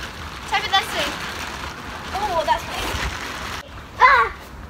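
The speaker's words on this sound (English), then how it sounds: "there's some water in this way, if you just want to try and pour it in" Water tipped and poured from a container splashes in short bursts, with children chattering and exclaiming close by throughout.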